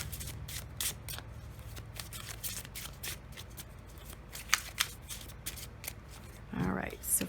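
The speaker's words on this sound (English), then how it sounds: "let's draw one of my cards for the central card up top" Tarot cards with Halloween-themed decks being shuffled, a soft rapid riffling and flicking with scattered card taps, close by, while someone talks over it.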